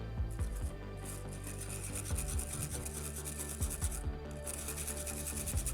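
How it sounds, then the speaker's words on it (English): A spoon scrapes colored cocoa butter through a fine sieve in repeated quiet rasping strokes, close and faint, with brief pauses between bursts of rubbing. "I'm just kind of scraping it down through the sieve."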